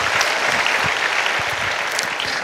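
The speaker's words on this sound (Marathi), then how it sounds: "तुमच्यासाठी सुद्धा एकदा टाळ्या व्हायला पाहिजे" An audience at a kirtan gathering claps in dense, sustained applause, loud and continuous for the whole short stretch with no talk over it.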